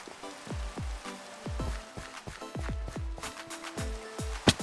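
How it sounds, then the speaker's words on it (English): Rain in the video game Minecraft patters as a quick, irregular series of separate droplet plinks and taps, fairly quiet and alone. "it's raining, it's cold, it's raining"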